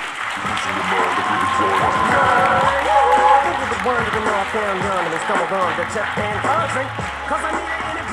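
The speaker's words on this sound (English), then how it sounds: "So give a round of applause for Sal Lupoli." Applause from a school crowd at a Tarbox School event with the Boston Celtics, a dense, steady ovation of many hands that fills the full stretch, with voices mixed in underneath.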